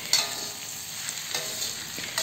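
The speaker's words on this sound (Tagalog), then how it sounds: "Gisayin muna natin guys ang ampalaya ng 2 minuto" Sliced bitter gourd (ampalaya) sautéing in a hot pan, a steady close sizzle with a few louder stirring scrapes and clatters breaking through, no talking.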